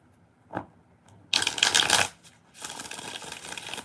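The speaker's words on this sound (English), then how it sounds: "2 more shuffles for LZ." Tarot cards being shuffled by hand in two bursts of rapid, crisp riffling and flapping, close and loud, with a soft tap before the first burst and no talk.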